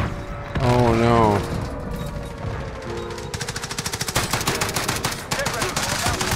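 An FAL rifle fires in the shooter Modern Warfare: a fast string of sharp, evenly spaced shots rattles close and loud, broken by brief pauses, after a short stretch of other game sounds, with voices heard now and then.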